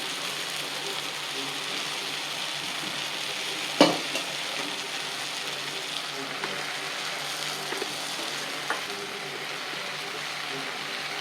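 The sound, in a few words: stirring potato masala kurma in a pan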